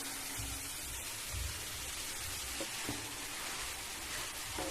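Fenugreek greens cooking with onion, garlic and green chilli in a pan, giving a steady close sizzle with soft crackling throughout and no voices.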